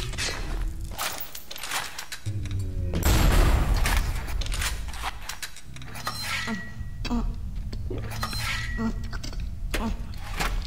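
Gunfire in the Bioshock shooter game comes as a series of sharp shots and short bursts, with a heavier blast in the middle, amid clanking in-game noises; a voice speaks in places.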